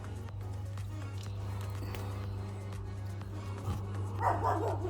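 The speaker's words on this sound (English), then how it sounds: "That's our Ringo barking at the helicopter." A pet dog named Ringo barks at a passing helicopter in a backyard herb garden, a few scattered barks at moderate distance over a steady low hum.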